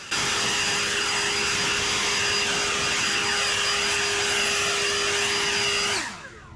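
A leaf blower clears debris from the edges of an ivy ground-cover bed where it meets curbing and landscape edging, a loud, steady close-up roar with a high whine that holds for about six seconds and then cuts off abruptly.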